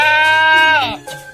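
A goat gives one loud, close bleat, wavering and drawn out, followed by a brief softer tail of sound.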